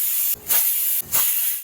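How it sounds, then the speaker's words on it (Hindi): Two sharp bursts of hissing steam release in quick succession, loud and close, from a pressure cooker whistle venting while cooking pumpkin. "कुकर का ढक्कन लगा लेंगे और कद्दू को हम पका लेंगे कम से कम 5 सीटी होने तक"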